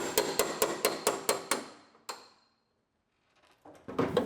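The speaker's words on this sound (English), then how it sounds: "Now we can knock off the spot welds." A hammer knocks spot welds off a 1965 Mustang car body in a quick series of about seven sharp metal blows, then a single strike, a pause and more hits, close and loud.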